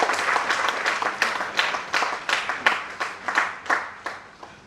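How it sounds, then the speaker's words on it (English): An audience at an awareness program in Noida applauds to welcome a keynote speaker, with steady clapping from a moderately sized crowd, close and lively, gradually thinning toward the end. "Please welcome him once again with a huge round of applause."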